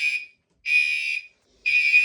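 A fire alarm sounds from a newly added pull station under test, giving three loud, shrill electronic tone bursts of about half a second each, separated by brief silences.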